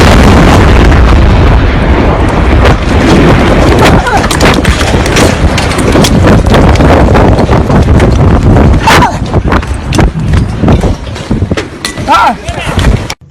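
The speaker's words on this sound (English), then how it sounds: "That was a massive explosion in the western regional town" A massive explosion in the western regional town of Bogoso, heard as a sustained, roaring wall of loud blast noise with crackling bursts throughout, like close-range rumbling and debris, fading slightly near the end.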